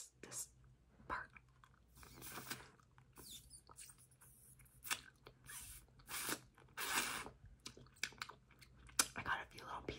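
Wet mouth sounds from sucking and biting on Nerds Rope candy, close-miked ASMR with irregular smacks, slurps and soft clicks in bursts separated by quiet gaps, plus breathy whispered murmurs.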